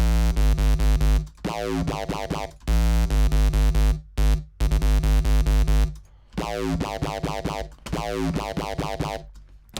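Buzzy, harmonically rich saw wave synth bass notes in a repeating acid pattern, bright and raw with no filtering, cutting off abruptly in short gaps.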